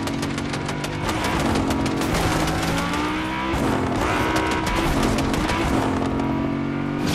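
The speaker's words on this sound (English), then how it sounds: "You see him driving?" A car driving in Fortnite, its engine droning loudly and continuously with repeated revs and gear shifts, close and dominant throughout.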